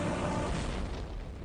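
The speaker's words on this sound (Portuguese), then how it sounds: "A estrela mais pequena irrompe numa série de enormes explosões nucleares." A deep, sustained rumbling roar of a star's enormous nuclear explosions, loud and broadband throughout, swelling and holding without distinct separate blasts, with no voices.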